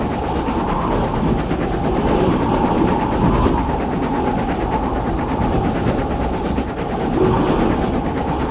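Thomas the Tank Engine running in a video game, a steady loud rail rumble with rhythmic clickety-clack, continuous throughout with no voices.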